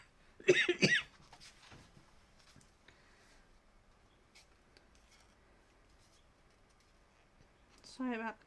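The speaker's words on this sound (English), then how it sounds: "Sorry about the coughing, my asthma's been a bit of a pain today." A short burst of coughing from a person with asthma near the start, then quiet background, with another brief cough-like sound at the end.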